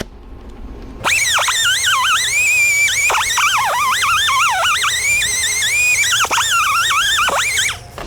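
A 3M cookie surface conditioning disc scrubs the inside of a brake rotor hub on an AAMCO 4000 brake lathe, giving a loud, continuous, high-pitched warbling squeal that wavers in pitch for about seven seconds.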